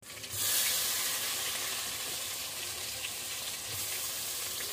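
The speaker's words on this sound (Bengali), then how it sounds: "এদিকে আমার এখনো বেগুন ভাজা চলছে" Eggplant slices fry in a pan over a home stove, a steady broadband sizzle that swells at the start and stays fairly constant, close and moderately loud, with no voices.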